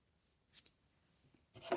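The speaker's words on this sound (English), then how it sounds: "snip a long enough tail" Scissors snip a crochet yarn tail: two quick, crisp cuts close by, a pause, then a louder cut with a rustle of handling at the end.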